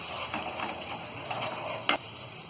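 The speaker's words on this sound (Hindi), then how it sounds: "अब इन सारी चीजों को हम अच्छी तरह भून लेंगे" Spices and paste for palak paneer sautéing in a pan, a steady low sizzle with soft stirring scrapes throughout and one sharper clink near the end.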